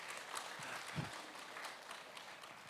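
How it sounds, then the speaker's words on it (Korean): A church congregation claps for its elders during a Sunday worship service; the applause is soft and distant, a thin continuous patter of many hands with no voices over it. "이럴 때는 박수를 치셔도 돼요"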